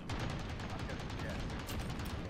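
AC-130 gunship fire in Call of Duty: Modern Warfare sounds as a dense, continuous rattle of rapid heavy gunshots and booming impacts throughout the short burst.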